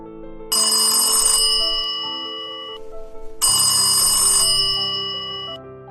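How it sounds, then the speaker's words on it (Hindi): A telephone rings twice, each bright electronic trill lasting about a second, separated by a pause with a lingering tonal background. "एक दिन रामू को अपने भाई का फोन आता है"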